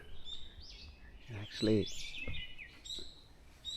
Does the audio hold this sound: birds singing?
yes